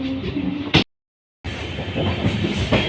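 Sairang to Kolkata Express, train 13126, running along its route with a steady rumbling rattle of carriages and wheels, cut by a brief gap of near silence before the rolling noise resumes, close and continuous.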